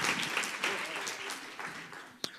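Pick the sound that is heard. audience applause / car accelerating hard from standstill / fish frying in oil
audience applause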